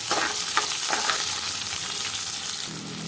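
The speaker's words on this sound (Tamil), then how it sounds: "சின்ன வெங்காயம், வெள்ளைப்பூடு, கருவேப்பிலை இதெல்லாம் சேர்த்து நல்லா வதக்கி எடுத்துடலாம்" Shallots, garlic and curry leaves sautéing in a pan, a steady loud sizzle with a few stirring scrapes, no talking.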